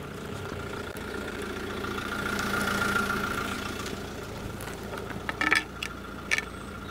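A vehicle engine idles and drives steadily over a Reich vehicle scale, a continuous mid-range hum up close with a few short clicks and knocks near the end, no talking.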